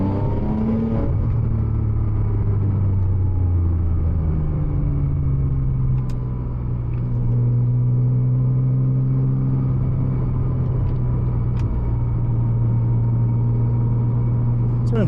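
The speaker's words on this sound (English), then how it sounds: "Third gear roll on." Porsche Cayman 987 Turbo making about 700 hp, pulling hard in third gear on a night drive, a loud deep engine rumble rising steadily in pitch, easing briefly, then climbing again inside the car.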